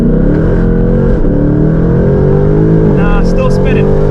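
A sports car launches hard from a standstill in Sport Plus with traction control on, its engine loud and rising close by as the wheels spin on cold factory tires, while someone talks over it.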